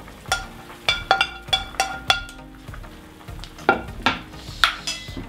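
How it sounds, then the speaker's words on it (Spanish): Garlic dropped into a pot for spicy Korean beef soup gives a short sizzle, followed by repeated clinks and scrapes of a utensil against the pot in an uneven rhythm. "Y ahora voy a echar"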